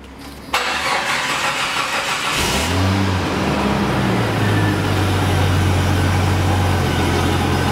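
A 1990 Jeep Cherokee Laredo two-door cranks and catches after a short start, its engine rising briefly then settling into a steady, close idle that runs to the end.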